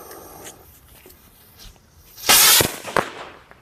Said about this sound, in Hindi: ये देखा भाई टू साउंड भाई दो बार तो फूटा